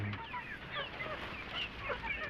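Small Rhode Island chicks cluck and cheep continuously at close range, overlapping soft chirps forming a busy, moderately quiet chatter.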